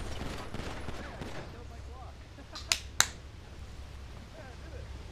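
Two sharp, close gunshots crack in quick succession from an MP5 in GTA 5 roleplay, standing out over quieter game background noise.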